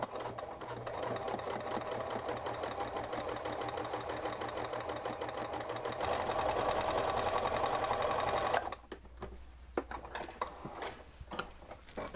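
A sewing machine runs in a rapid steady stitching rhythm sewing a French seam, speeding up briefly, then stops, leaving a few faint clicks and handling noises.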